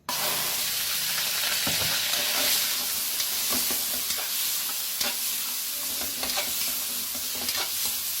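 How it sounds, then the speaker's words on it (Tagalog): Liver sautés in oil in a pan while being stirred, giving a continuous close sizzle broken by frequent scraping and clattering stirs, with no talking. "Igisa-gisa ko lang din yung atay."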